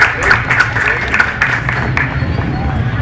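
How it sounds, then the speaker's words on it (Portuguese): A church congregation claps as a pastor hands Bibles to newly baptized members. The applause is uneven and scattered, with crowd murmur and voices talking over it nearby. "As palmas."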